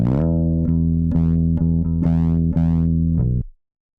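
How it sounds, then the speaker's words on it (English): An electric bass line tracked through a 1073 preamp into a 1176 compressor plays sustained, slightly distorted notes with clear plucked attacks, loud and up front, ending abruptly. "Bass is also tracked through the 1073 preamp going into the 1176,"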